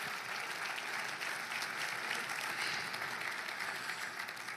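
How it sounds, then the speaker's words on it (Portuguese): A church congregation at a prayer meeting applauds steadily, a dense wash of many hands clapping at moderate volume that continues evenly without talk. "Dê para Jesus mais uma forte salva de palmas."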